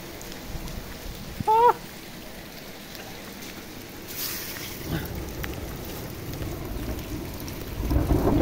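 A first rain with hail falls outdoors in a village, a steady patter of drops and hailstones with rumbles of distant thunder, broken by a short tonal squeak and occasional louder bursts.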